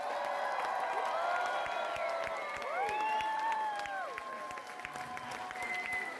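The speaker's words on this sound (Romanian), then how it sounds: "Aplauze multe, multe de tot!" An audience at a children's pop and folk concert claps steadily while several voices whoop and cheer with rising and falling shouts over the dense, continuous applause.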